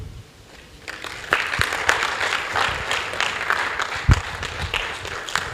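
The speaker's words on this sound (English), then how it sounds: "Thank you for that warm applause." A seminar audience at a business integrity convention breaks into warm applause after a quiet start. The clapping swells quickly into full, sustained sound from many hands, with a few sharper claps standing out.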